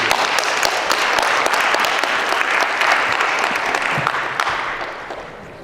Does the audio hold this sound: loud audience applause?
yes